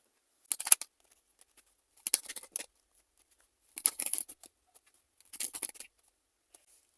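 Tarot cards being drawn and handled, heard as four separate bursts of crisp papery shuffling and flicking, each lasting about half a second, close by and alone in quiet surroundings.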